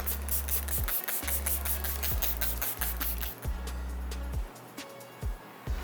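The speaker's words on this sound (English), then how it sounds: "Now I'm going to set her face with our Le Champ vegan setting spray." A few short bursts of fine aerosol setting spray from Le Champ Cosmetics hiss close by, with brief pauses between them and faint background noise.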